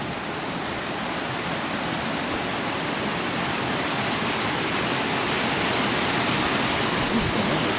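Paradise Falls, a waterfall in the Bighorn Mountains, roars as a steady, loud, unbroken wash of rushing water with no other sounds standing out.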